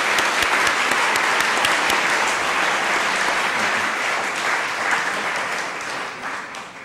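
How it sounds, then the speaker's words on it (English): An audience at a college day celebration claps steadily and loudly for several seconds after a presentation, then the applause slowly starts to fade toward the end. "Let's give her a round of applause."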